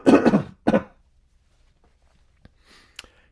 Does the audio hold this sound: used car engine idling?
no